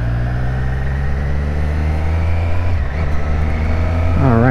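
A 2024 Triumph Street Triple RS motorcycle engine droning steadily while riding, loud and close at a constant pitch, then rising into a short rev near the end.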